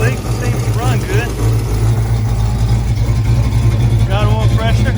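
A 1965 Ford Falcon engine idles steadily with a low, even rumble and a slight exhaust leak, running continuously at close range while someone talks over it.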